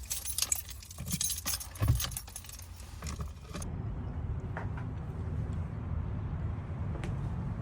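Keys jangle and clink loudly for a few seconds up close, then fade into a quiet steady background rumble.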